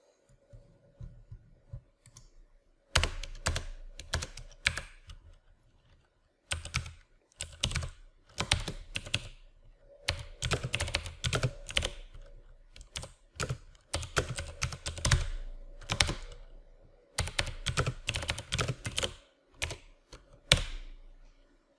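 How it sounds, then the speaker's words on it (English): Bursts of keyboard typing as a formula is entered on a computer, clustered clicky keystrokes in irregular runs with short pauses, close and clear with no voices. "Let me type the formula."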